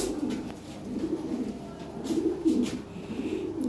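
Lahore pigeons coo softly in a low, repeated rolling rhythm close by, with faint background noise and no talk.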